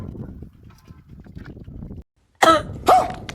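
A man coughs twice in quick, harsh bursts after a stretch of low background rumble and shuffling, loud and close.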